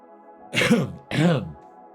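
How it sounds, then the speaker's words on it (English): Two rough, throaty coughs or throat-clearing bursts close to the microphone, evenly spaced, then quiet. "Don't know why I had that cough there."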